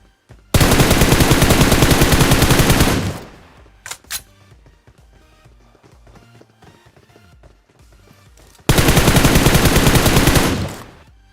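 Heavy automatic gunfire from the PUBG Mobile battle royale game, two long sustained loud bursts separated by a quieter stretch with scattered smaller shots and game sounds.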